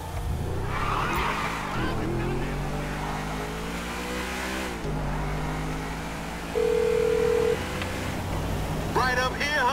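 An in-game phone call on speakerphone in GTA V, with a brief electronic phone tone midway, layered over a steady car engine and game audio, with voices talking throughout.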